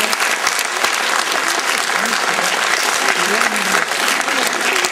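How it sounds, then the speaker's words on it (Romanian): Audience at a stage performance applauding a young boy singer, sustained dense clapping at full strength across the whole stretch, with faint voices beneath it. "Aplauze încă o dată pentru el."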